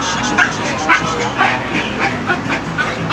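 A big dog barks in a series of short, repeated woofs over a busy outdoor background, with a person talking to a dog nearby.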